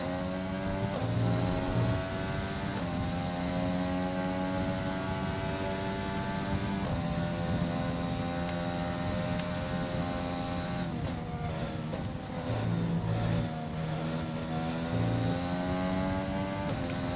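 An F1 race car engine in an F1 video game screams at high revs from the onboard view, a continuous loud, tonal wail that shifts up and down as gears change over several seconds.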